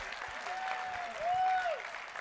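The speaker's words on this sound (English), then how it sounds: "Another round of applause for our winner." Steady applause from a small audience at moderate volume, with a faint whistle-like tone sliding through the middle.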